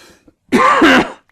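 A man clears his throat in one close, harsh burst with a second rasping push, the sound of a lingering chesty cough after a cold.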